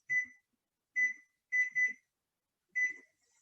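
A kitchen timer gives a series of short electronic beeps while being set, five crisp chirps in an irregular pattern with two close together, near and clear in an otherwise quiet kitchen.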